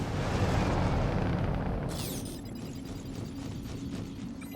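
A big gun fires in a video game, with the target about six kilometres out: a loud deep blast opens the clip, followed by a heavy low rumble that slowly fades with a faint crackle.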